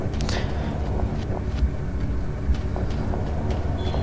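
A subway train rumbles through a tunnel with a loud, continuous low roar and faint rhythmic clatter over the rails, steady and close for the whole stretch.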